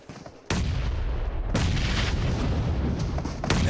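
A grenade blast in the PUBG Mobile video game during an esports match, heard as a sudden loud boom followed by a sustained roaring rumble and a second heavy burst, with no talk over it.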